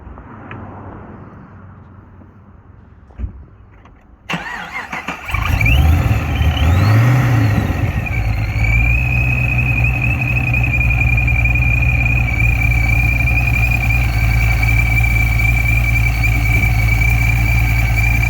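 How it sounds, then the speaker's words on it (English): A VE SS engine with a ProCharger supercharger fires up and settles into a loud, steady run with a high, constant supercharger whine riding over the low rumble; no talking. "the ProCharger has a distinct sound to it, a bit of a whine to it as well too"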